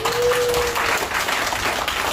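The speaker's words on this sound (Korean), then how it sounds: "박수 부탁드리겠습니다" Audience applause at a labor union workers' lecture, a steady wash of many hands clapping together, loud and sustained throughout with no speech over it.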